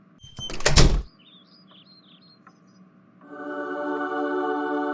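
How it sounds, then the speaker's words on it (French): A door opens indoors in a house with a short loud rattle and thump, followed by quiet and then a steady low hum. "La porte est ouverte."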